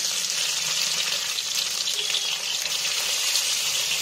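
Chopped tomato hitting hot oil with sugar, panch phoron and bay leaf in a pan, a loud, steady crackling sizzle that holds evenly and close throughout.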